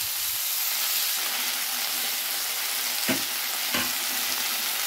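Tomatoes with salt and ginger sizzle and fry in a hot pan for muri ghonto, a steady close hiss broken by two sharp stirring scrapes.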